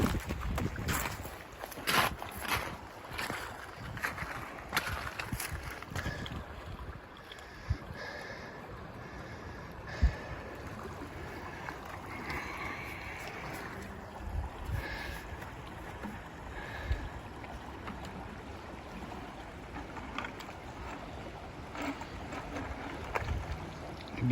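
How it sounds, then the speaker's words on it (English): A person wades across a shallow creek, with splashing steps in the water under rushing wind and scattered outdoor noise. "Brad's walking across the creek."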